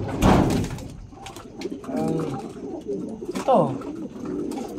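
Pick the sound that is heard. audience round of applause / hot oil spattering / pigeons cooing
pigeons cooing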